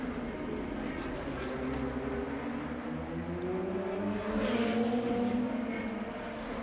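DTM race car at the Nürburgring during practice, its engine a steady loud drone with a rising pass-by swell near the end, heard at a distance over continuous track noise.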